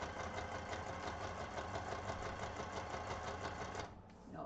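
A sewing machine stitches a decorative half-moon pattern in a fast, even mechanical chatter that runs steadily for several seconds, then abruptly stops near the end.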